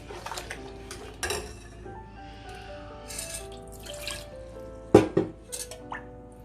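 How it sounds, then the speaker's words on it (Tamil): A slotted ladle stirring pearl millet porridge in a pot, with close scraping clinks of metal against metal, irregular knocks and a sharper clank, alongside faint watery sloshing. "நல்லா அது மாதிரி ஜல்லி கரண்டி வச்சு கிண்டணும்."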